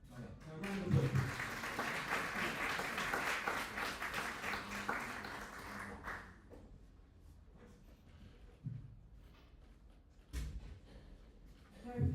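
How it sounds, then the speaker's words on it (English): An audience at a World Peace Forum applauds a speaker in a loud, dense burst of clapping for about six seconds. It then fades into a quieter hall with scattered thumps and shuffling. "Now, round of applause."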